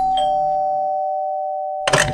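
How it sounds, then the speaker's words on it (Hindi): A single electronic doorbell chime rings out clearly and fades with a long sustained tone, followed by a brief rustle near the end. "घर की डोरबेल से।"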